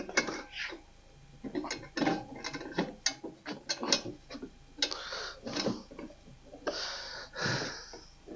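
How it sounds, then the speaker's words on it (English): Ratcheting clamp being tightened in a workshop: a series of close, sharp clicking strokes in irregular bursts, some quicker runs of ratchet teeth, with no talking. "So we'll try and clamp that. We'll clamp it on this side."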